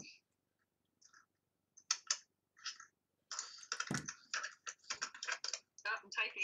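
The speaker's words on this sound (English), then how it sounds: "Oh, I'm typing." Computer keyboard typing in a quiet indoor space, scattered clicks at first, then a dense run of rapid keystrokes; a voice speaks briefly between the bursts.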